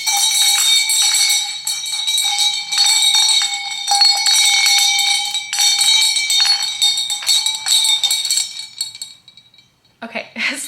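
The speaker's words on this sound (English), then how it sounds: "You could tell the bells work really well." Many small bells on a wreath jingle loudly and continuously up close for about nine seconds, then stop, followed by a brief rustling handling noise.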